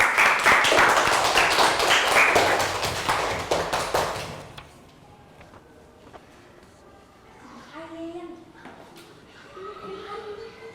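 A classroom of children gives a round of applause, quick, rapid clapping loud and close for about four seconds before it stops abruptly, followed by a teacher talking.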